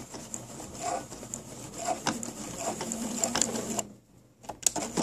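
A sewing machine runs in reverse to stitch back over a dress hem, its quiet, rapid needle chatter coming in short bursts with a brief pause before it starts again.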